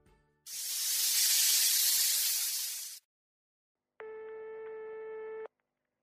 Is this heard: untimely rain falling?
no